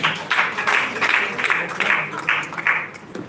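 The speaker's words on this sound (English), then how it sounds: "Please, a round of applause for him." Audience at a live women's forum event claps in uneven waves of bursts, rising and falling at moderate loudness throughout.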